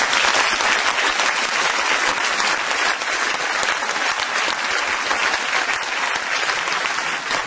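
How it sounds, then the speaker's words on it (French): An audience in a cultural hall at the inauguration of the Espace Palumbo applauds Jean-Claude, dense sustained clapping from many people filling the room without a break. "vous demander d'applaudir Jean-Claude qui est ici"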